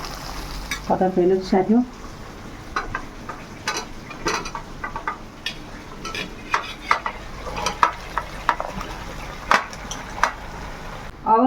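Jackfruit curry cooks in ghee in a pan, a low steady sizzle broken by repeated sharp scraping and clacking stir strokes, with a brief spoken remark early on.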